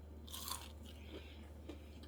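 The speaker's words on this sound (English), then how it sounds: "You can hear the crunch." Crisp crunch of biting into a panko-crusted chicken schnitzel, one close bite followed by a few quieter crunching chews over a steady low hum.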